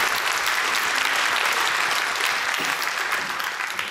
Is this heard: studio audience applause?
yes